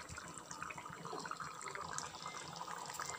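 Chickpea kurma gravy bubbling and simmering in a covered pot on the stove, a steady liquid churning and gurgling that stays constant and fairly quiet throughout, with no talking.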